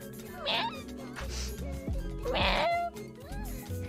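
A human voice mimics a cat with three or so nasal meows, the last one longest and loudest, delivered close to the microphone with brief gaps between calls.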